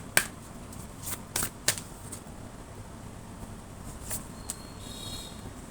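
Tarot cards are shuffled for a reading, with a few quick crisp riffles and flicks near the start, then quieter scattered card sounds over a steady faint hiss, with no talk.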